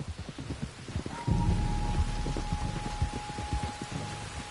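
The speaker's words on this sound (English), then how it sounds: "There's rain on the wind." Rain and thunder in Red Dead Redemption 2: a steady, fairly loud wash of rainfall with low rumbling beneath it, plus a faint sustained tone, and no one speaking.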